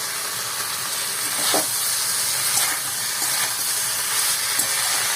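Vegetables and fried papaya pieces stir-fried in spices for a Bengali shukto sizzle steadily in hot oil, a close, even hiss broken by occasional spatula scrapes and stirs.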